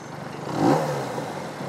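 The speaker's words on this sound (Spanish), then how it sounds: "el sonido de esa moto es espectacular" A Yamaha MT-09 motorcycle engine swells in a quick rev, rising then easing back to a steady rumble, heard from nearby.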